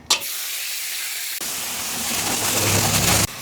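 Garlic, onion, tomato, ginger and green chili are dropped together into hot cooking oil outdoors, setting off a loud, close, hissing sizzle that swells and continues steadily before cutting off.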